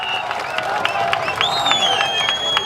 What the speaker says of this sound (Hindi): जोरदार तालियों से सर का अभिवादन करें।